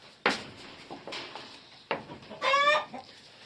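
Chickens cluck in a henhouse where a hen has been eating eggs, with several short, sharp clucks spread out over a few seconds and one louder, drawn-out squawking call near the end.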